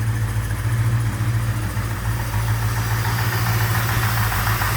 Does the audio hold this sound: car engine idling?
yes